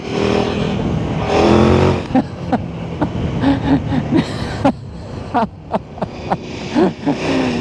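A KTM Super Duke 1390 R EVO motorcycle ridden through traffic, its engine droning with repeated sharp throttle blips and short revs, close and fairly loud over steady road and wind noise.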